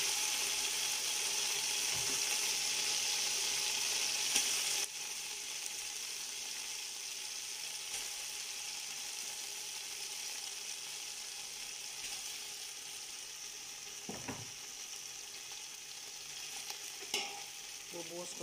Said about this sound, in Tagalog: ilalagay natin ang ating kanin na malamig